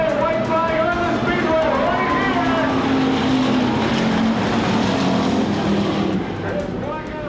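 Hobby stock race cars racing on the track at Oskaloosa, engines droning continuously and loudly with shifting pitch as cars pass, under a commentator's voice.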